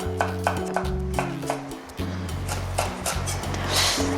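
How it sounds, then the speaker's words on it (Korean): A knife chops ingredients for a Korean dried pollack salad on a cutting board in a steady, rhythmic series of sharp cuts over a low, droning background tone. "자 칼질 좀 해볼게요"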